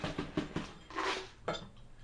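Candy ingredients being mixed in a bowl, a series of quick clinking and scraping knocks of a utensil against the dish, close and fairly soft, followed by a longer scrape.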